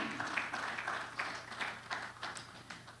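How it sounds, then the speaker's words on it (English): An audience at a legal advisers' forum gives a speaker a round of applause, heard as faint, distant clapping in irregular bursts with a low hum underneath. "Let's keep the applause going."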